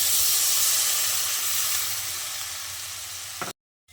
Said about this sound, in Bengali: এবার আমি এই পর্যায়ে দিয়ে দিচ্ছি হালকা কুসুম গরম জল